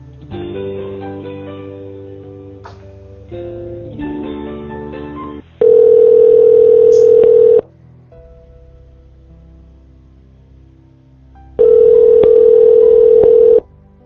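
Long steady telephone tones sound twice on a line during a call transfer, each lasting about two seconds and separated by quieter stretches of line noise and faint tonal hum, with no talking over them.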